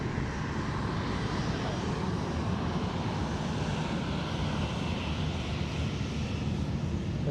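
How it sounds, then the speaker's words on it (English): A T-Way airliner arriving at Sydney Airport on flight 501 from Seoul, giving a steady, loud broadband jet roar that fills the whole stretch without letting up, with no talking over it. "We've got the T-Way 501 just coming from Seoul there."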